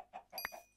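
Minecraft pig grunts in a short burst, a couple of quick nasal snorts close up with faint game sounds around them, no talk.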